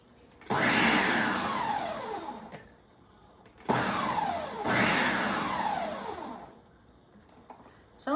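A Ninja blender pulses pumpkin soup in three loud whirring bursts, each starting sharply and dropping in pitch as the motor strains, with short quiet gaps between them.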